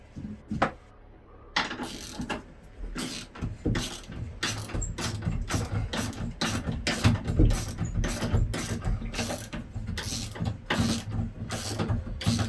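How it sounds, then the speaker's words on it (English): Bolts being unscrewed from a bulkhead inside a 28-foot sailboat, heard as rapid repeated ratcheting clicks and mechanical clatter, close and fairly loud, running almost continuously after a brief pause near the start. "So I'm unscrewing from this side."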